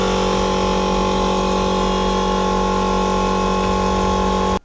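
An air compressor running steadily as it pressurizes a spinner, a loud droning motor hum with a constant tone that holds for several seconds and then cuts off abruptly.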